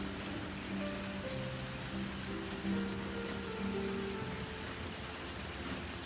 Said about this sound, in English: Well, we got surprised by rain today.